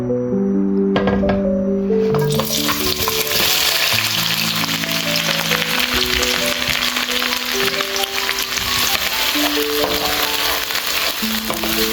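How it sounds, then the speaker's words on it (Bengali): Onion, green chili and garlic dropped into hot oil, setting off a loud, dense sizzle that swells after a few seconds and holds steady throughout, with light clinks of a utensil. "ভাজা তেলে আমি এখন পেঁয়াজ কাঁচামরিচ আর রসুন দিয়ে দেবো"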